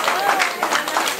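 An audience claps for an award laureate at a diaspora awards night in Paris, a dense, steady wash of applause filling the room throughout.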